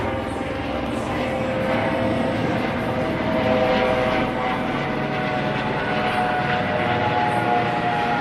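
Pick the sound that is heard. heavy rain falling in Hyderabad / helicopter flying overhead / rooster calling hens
helicopter flying overhead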